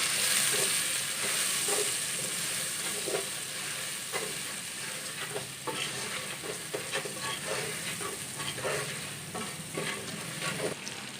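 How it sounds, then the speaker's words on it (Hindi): Masala frying in a pan for Punjabi-style lauki sabzi gives a steady, close sizzle with repeated scraping stirs of a spoon throughout, fairly loud with no talking. "मसाला हमारा अच्छी तरह फ्राई हो चुका है।"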